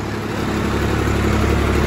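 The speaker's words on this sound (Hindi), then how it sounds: "बाकी आ वेख सकदे हो इधर ट्रैक्टर लगा आ" Tractor engine idling steadily in a neighbourhood with downed wires strewn about, a continuous low mechanical rumble without pause throughout.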